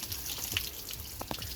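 Water splashes and pours from a basin during bathing, with brief sloshes and a couple of quick spills over a short stretch and no talk.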